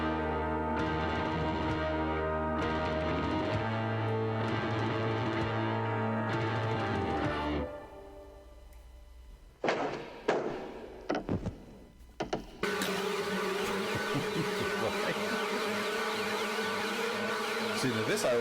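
A buzzing sound effect like swarming flies, from an album, whines loud and dense amid sustained music before cutting out briefly into a few scattered bursts, then returns strong and continuous.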